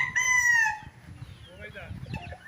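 Rooster at a game farm in Pagsanjan, Laguna, giving a single loud crow near the start, followed by faint clucking and low background sounds.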